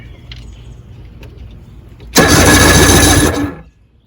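A 1994 Evinrude 90 hp outboard engine cranks over loudly for about a second and a half during a compression test, a steady churning whir that stops abruptly, with quiet background before it.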